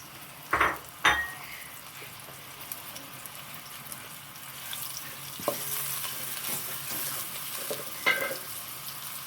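A spoon stirs frying mash daal in a pan, with a soft low sizzle under a few sharp scraping clinks of metal on the pot, spaced out and fairly close.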